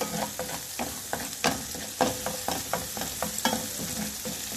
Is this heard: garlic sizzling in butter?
yes